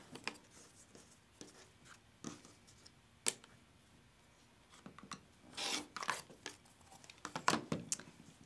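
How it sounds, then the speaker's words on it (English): Rotary or blade cutter slicing through a quilt seam along a ruler, several short scraping rubs and rasps spaced irregularly, close and fairly quiet with a louder cluster of strokes near the end. "just cut your seam in the very center by aligning the ruler on each point."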